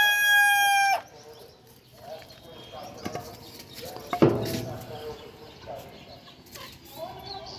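Chickens in a poultry coop, with a rooster crowing loudly at the start, followed by scattered clucks and fowl calls, some shuffling and a sharp knock, with brief human voice sounds in the background.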